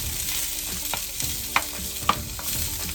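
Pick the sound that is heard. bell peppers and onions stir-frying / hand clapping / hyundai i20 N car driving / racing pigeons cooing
bell peppers and onions stir-frying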